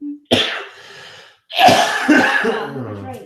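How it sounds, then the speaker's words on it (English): A man coughs sharply a few times in close succession, harsh bursts of air with short gaps between them, loud and near. "He's had this cough for a few days now."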